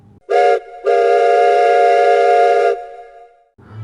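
A train sounds its horn: a short loud blast, a brief pause, then one long sustained chord-like note, close and dominant, followed by a fading low rumble.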